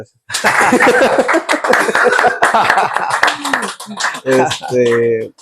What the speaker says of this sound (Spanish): Palmas, por favor, para el maestro aquí presente.